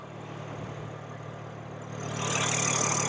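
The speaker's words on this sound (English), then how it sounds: "underneath the hood is the S58 inline-six 3-liter twin-turbo engine" A 2024 BMW M4 with the S58 three-litre twin-turbo inline-six idles at a steady low rumble close by, with a broader rushing hiss building partway through and no talk over it.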